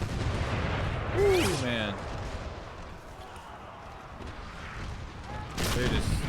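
Cannon fire in the ACW Total War video game on hardcore difficulty: two booming, crackling shot bursts at the start and end, separated by a lull of rumbling battle ambience, with a man exclaiming briefly.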